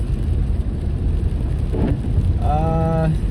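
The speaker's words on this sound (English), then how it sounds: "the rain has picked up quite a bit" Heavy rain drums on a moving car on a highway drive to Johannesburg, a loud steady wash with a brief tonal hum and a short horn-like tone near the end.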